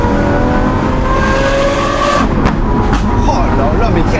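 A Lamborghini Aventador SVJ's V12 engine revs hard and loud up close, the exhaust note climbing and shifting through gears, with a voice under it.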